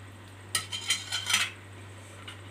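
A spoon clinks and scrapes against a glass while stirring a cold coffee drink, several quick close taps in a short burst, then quiet.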